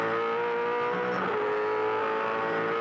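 V8 Supercars race at the Bathurst 1000, a roaring engine drone rising and swelling as a car passes at a distance.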